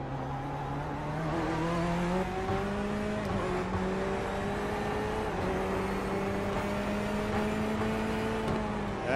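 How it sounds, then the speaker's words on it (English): A Corvette race car in a sim racing game at Sebring, its engine droning loud and steady with shifting pitch as it chases another car, backfire pops not clearly distinct from the continuous engine note. "That car definitely backfiring, as you mentioned."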